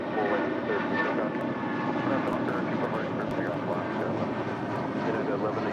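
An Alaska airliner departs runway 25 right at LAX, a steady, broad engine roar held throughout at moderate distance, with radio voices talking over it.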